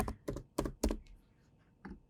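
Someone typing a style name on a computer keyboard while working in design software: four distinct, close keystrokes in quick succession, a short pause, then one more tap, with no speech.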